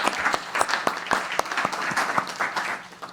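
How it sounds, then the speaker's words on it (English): A small group applauds at a paramedic student graduation, with close, distinct individual claps forming a lively, uneven patter that carries on without pause. "So a big round of applause."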